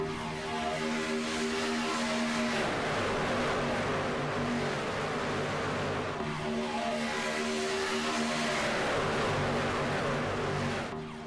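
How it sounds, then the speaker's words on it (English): Race trucks lapping Talladega speedway, a continuous loud roar of several engines with pitch swells as the pack passes, steady throughout without voices. "Gotta love the sound of these trucks all getting around the speedway."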